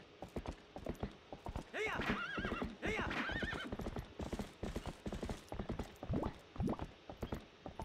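A horse gallops in the video game Legend of Zelda: Twilight Princess, its rhythmic clip-clop hoofbeats running steadily throughout and broken by two loud whinnying neighs early on.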